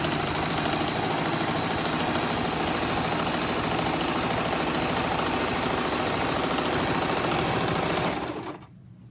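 A sewing machine stitching straight along a fabric mask seam, a loud, close, rapid mechanical chatter running steadily for about eight seconds before stopping abruptly.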